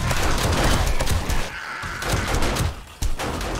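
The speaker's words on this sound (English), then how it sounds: "I think my turrets here, my auto turrets, are doing so much so much damage." Auto turrets fire during horde night in the video game 7 Days to Die, producing a loud, dense, near-continuous rattle of rapid shots with brief dips and no speech.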